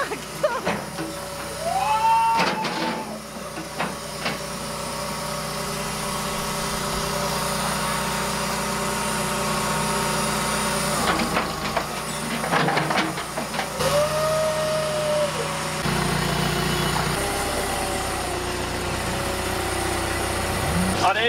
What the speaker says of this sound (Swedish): För att kunna burna, ja, då måste vi väck med Henkes jävla traktor